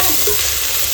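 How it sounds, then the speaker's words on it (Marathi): Onions sautéing in a pan for a village-style chicken curry give a steady, close sizzle with soft stirring, short and continuous, with no talking. "इकडे ना कांदा मस्त परतवून घेतलेला आहे."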